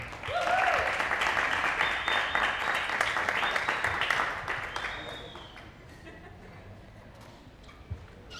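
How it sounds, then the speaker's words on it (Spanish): An audience at a book event applauds the protagonist and illustrator, brisk clapping with a few whistles on top that swells early, holds, then thins out and dies away toward a quiet room. "un aplauso para ella"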